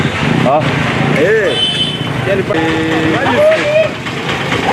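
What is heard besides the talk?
motorcycle engine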